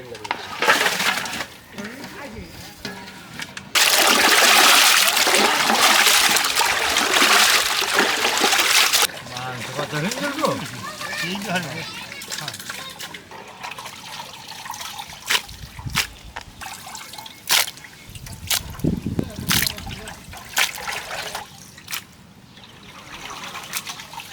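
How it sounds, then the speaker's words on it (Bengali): Running water trickles and splashes steadily for several seconds over beef, then gives way to intermittent wet handling noises and clinks, with a person talking over it. "পানিটা দিয়ে দিলাম, মাংসটা আমরা ধুয়ে নেবো এখন।"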